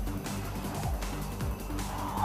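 A Jaguar Formula E race car spinning out as its rear tyres are overpowered, a steady whining drone with faint tyre scrub heard from a distance, without talking.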